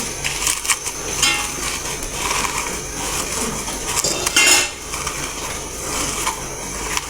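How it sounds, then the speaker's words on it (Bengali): Dried chilies ground into powder in a home kitchen, a continuous close grinding and crushing with metallic clinks and scraping, rising to a louder burst midway before easing back. "শুকনো মরিচ ভাই যে গুঁড়ো করে রাখতেছে আলু বোতার জন্য"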